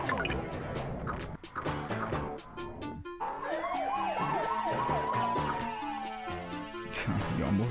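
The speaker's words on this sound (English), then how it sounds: "Got me, police car." Police car siren in the N64 video game Paperboy, a rising and falling wail that sweeps through the middle of the clip, over busy game music and sound effects.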